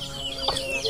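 Chickens on a crowded Filipino poultry farm give brief clucks and one sharper call, close by over a constant low hum of farm background.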